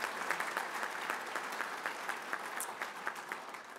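A round of applause for a visiting team at a Detroit Tigers gathering, moderately loud and steady with individual claps standing out, sustained throughout without speech.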